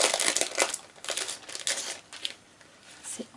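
Gift packaging being unwrapped: paper crackles and crinkles in repeated bursts, loud and close, with no talk over it.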